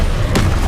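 A Confringo spell blast in Hogwarts Legacy: one sharp, loud burst hits midway through a dense wash of game noise and dies away quickly.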